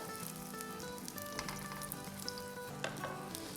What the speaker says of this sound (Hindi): मीडियम लो पे अच्छे से फ्राई कर लेंगे